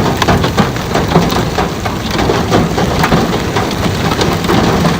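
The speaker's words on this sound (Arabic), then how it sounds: "برد كثيف، برد كثيف." Heavy hail and rain pound down during a violent storm in the UAE, a loud, dense, continuous clatter of countless impacts with no pauses, close and overwhelming.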